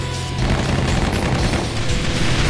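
An airstrike in the video game Crisis Core: Final Fantasy 7, a loud, dense barrage of rumbling blasts and crackling gunfire-like bursts that rolls on without a break.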